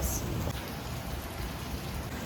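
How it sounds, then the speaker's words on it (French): Steady rain patters and hisses in a continuous wash, fairly close, with no clear voices, in Kuala Lumpur. "il pleut quand même beaucoup moins, mais assez pour que ça m'emmerde."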